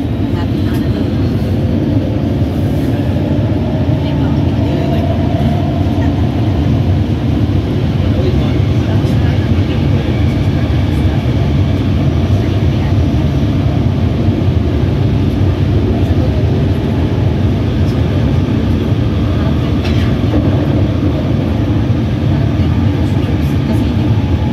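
A SkyTrain on the Canada Line at King Edward station, heading to Richmond-Brighouse, rumbles steadily with a loud, continuous low hum and rolling noise that stays constant for the whole stretch.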